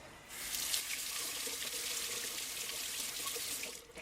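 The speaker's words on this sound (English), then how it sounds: "Give it a quick rinse." Running tap water splashes steadily over spring onions held under the faucet, a close, continuous rush that holds for several seconds.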